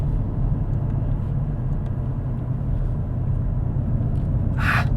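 Cabin of a BMW M850 on the move: a steady, loud low engine and road rumble fills the interior, with faint knocks of loose items shifting and a brief brighter rustle near the end.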